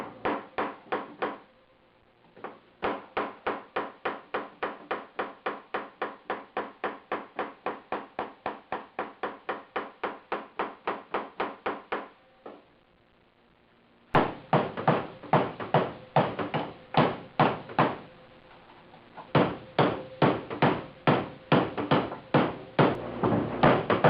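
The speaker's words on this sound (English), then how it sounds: "I've actually been hammering on this off and on for about 2 hours" Rapid, steady metallic hammer blows on the front sheet metal of a 1976 Mazda RX-5 Cosmo, in long runs separated by brief pauses, close and sharp, with no talking.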